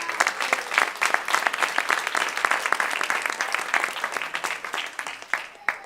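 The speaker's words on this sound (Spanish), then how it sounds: "Denle un fuerte aplauso al Señor." A church congregation applauds during a Spanish-language sermon, loud, busy clapping with distinct sharp claps that swell early and gradually thin out toward the end.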